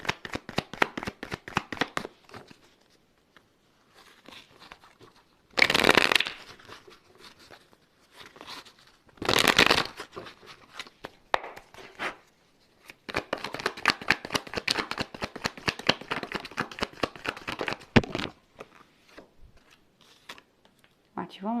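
A deck of oracle cards being shuffled by hand, with rapid riffling and slapping bursts coming in several bouts, close and crisp, with quiet pauses between them.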